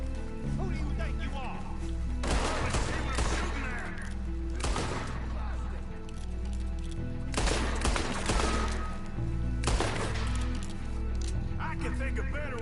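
Gunfire in a video game on PS4 erupts in several loud bursts of rapid shots separated by quieter gaps, over a steady low drone, with someone talking intermittently throughout.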